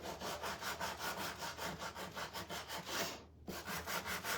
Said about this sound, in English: Just go around, just sand some of that off of there.